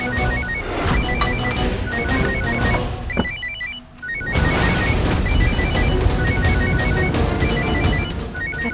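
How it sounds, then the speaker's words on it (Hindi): A mobile phone rings with a repeating electronic ringtone pattern, steady and moderately loud, beneath a dense, busy background of dramatic music and ambient noise. "ये तो राधिका का फोन बज रहा है।"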